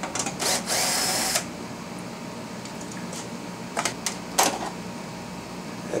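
A power tool whirs in short bursts while removing a small screw and a 10 mm bolt from the driver's door of a 2003-2007 Honda Accord, with brief clicks and clatter between the runs.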